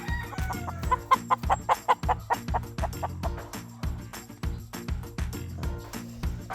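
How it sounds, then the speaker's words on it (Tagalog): Chickens cluck and cackle nearby in a quick series of short calls, with more clucking scattered through the rest, and no talking. "So, dagko kayo ni siyang manok."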